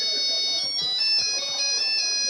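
A mobile phone ringtone plays as a steady electronic melody of bright sustained tones, moderately loud and continuous, with faint voices and background murmur beneath it.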